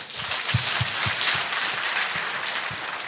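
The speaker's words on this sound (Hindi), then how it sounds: "मिला सीखने को तो हाथ ताली बजा दीजिए" An audience at a religious gathering claps hands in a loose, loud round of applause, individual claps standing out in a quick uneven rhythm.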